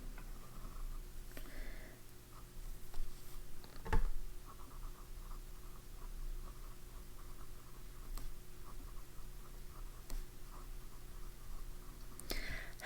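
A fine Montblanc fountain pen nib colors in on paper with soft, quiet scratching and small ticks that go on steadily, close-up, with faint room noise and no talking.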